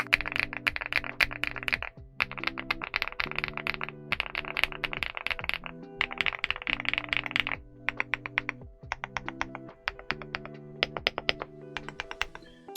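Rapid typing on a Weikav Stars80 v2 mechanical keyboard with MMD Ink Orange switches and Cherry-profile PBT keycaps, in bursts with short pauses, crisp clacky keystrokes close to the mic, steady and fairly loud.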